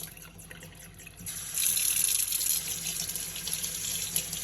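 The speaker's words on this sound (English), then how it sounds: "You're going to run your butter underneath this cold water." Cold water runs steadily from a kitchen sink tap over a block of homemade butter, a continuous close splashing stream that grows louder partway through as the flow hits the butter and basin.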